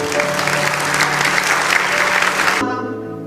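Church congregation gives loud, sustained applause in worship, dense clapping over a faint musical tone, cutting off sharply before a quiet pause.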